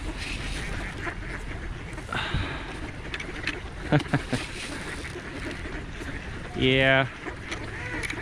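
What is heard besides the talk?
Canada geese honking and quacking at a feeding spot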